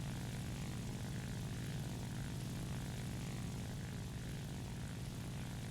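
Propeller engine drone of a P-51 fighter plane in the War Thunder combat flight game, a steady loud rumble lasting throughout with no talk.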